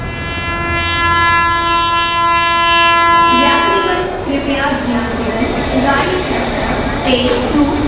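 A train sounds a long, loud horn nearby, then the horn stops and the rumble of rolling railcars continues, with voices talking over the rail noise.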